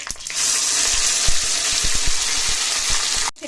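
Steady loud sizzle of a ground ginger-tamarind paste sautéing in a pan with whole dried red chillies, a continuous hiss dotted with small pops and crackles before it cuts off abruptly.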